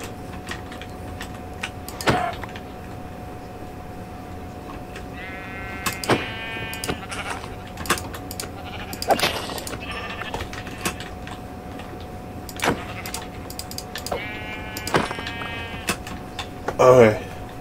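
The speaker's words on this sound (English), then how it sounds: "I see sheep, though, so I'm gonna go kill those." Sheep bleat in Minecraft as two short, wavering bursts separated by several seconds, heard alongside game sounds and clicks during play.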